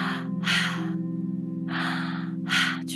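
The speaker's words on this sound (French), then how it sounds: "on fait 15 très grandes respirations forcées" Forced deep breaths taken through a wide-open mouth during a guided meditation, four loud rushing inhales and exhales with brief pauses, close to the microphone over a soft sustained musical drone.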